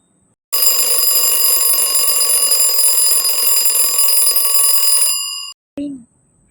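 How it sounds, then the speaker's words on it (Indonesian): An alarm clock rings loudly and continuously for several seconds with a bright, metallic tone, then cuts off abruptly, followed by a brief short blip. "Wah, alarm sudah berbunyi."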